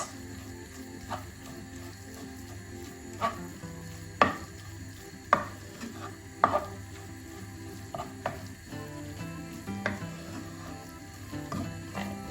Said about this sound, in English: So just give that a good mix.